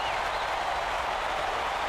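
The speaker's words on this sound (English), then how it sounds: "Listen to the crowd, Vern." College basketball crowd cheering and applauding in an arena, a dense, continuous roar of voices and clapping at steady loudness.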